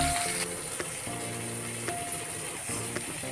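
Chilli powder, salt, potato and cassava sauté for a dosa masala in a pan, giving a soft sizzle broken by repeated scraping stirs and clinks of a spoon, quiet and close, with no talking.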